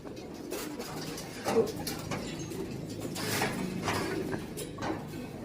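Young racing pigeons coo softly in the background amid a steady noisy ambience, with a few scattered clicks and faint movement sounds.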